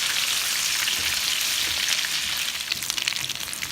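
Lemon juice hitting chicken wings frying in a hot pan, a loud, dense, continuous sizzle that crackles up more sharply toward the end, heard alone.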